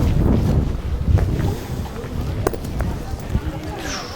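Wind buffets outdoor microphones at a pétanque match, a low rumbling roar that is heavy at first and then eases, with a few clicks and faint voices in the background.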